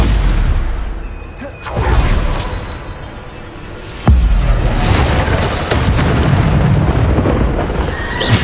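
Loud booming blasts of the Bombarda spell in the Hogwarts Legacy video game, with a sharp hit near the middle followed by sustained rumbling, whooshing combat noise.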